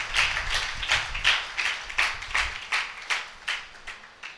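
A church congregation gathered for a Resurrection sermon claps together to thank God, making about a dozen crisp, evenly spaced claps in a steady rhythm that slowly fades.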